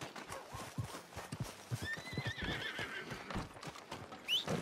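A horse in the Red Dead Redemption 2 video game whinnies while its hooves clip-clop in a steady, close rhythm, with a final higher neigh near the end over soft ambient game sound.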